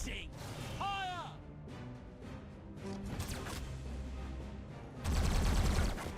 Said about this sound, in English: Let's make the cannon sing.